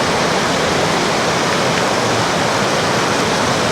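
Heavy rain pouring steadily at a riverside wild campsite, a dense, loud, unbroken hiss with no pauses or voices throughout.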